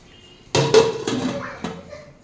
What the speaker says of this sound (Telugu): ఒక చుట్టూ మూత పెడతాను